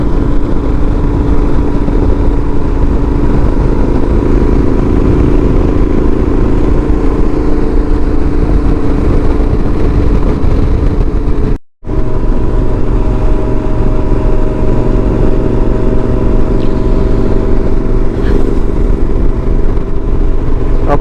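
A motorcycle engine drones steadily while riding an open, clean mountain road near Diablo Lake, with constant wind rush and a brief dropout midway.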